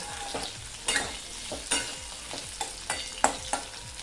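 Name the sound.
onion stirred and frying with potatoes in a pan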